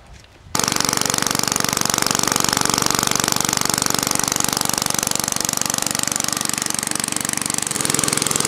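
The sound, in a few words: 1950s Toro Sportlawn power reel lawnmower engine running without muffler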